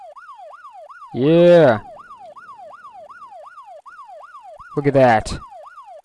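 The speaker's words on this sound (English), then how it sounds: "I'm putting my siren on." A rising and falling wail of a police siren on a bike in ArmA 2 sweeps steadily through the whole stretch, loud and continuous, interrupted twice by a person shouting over it.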